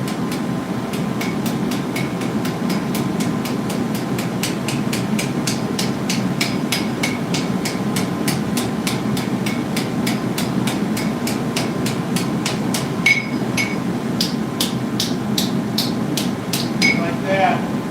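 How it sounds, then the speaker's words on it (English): Hammer forging the bowl of a steel spoon at a blacksmith forge: a long run of sharp metallic strikes in a steady, quick rhythm, close and loud, over a constant low hum of background noise. "And hammer on the back side of it and take it right out."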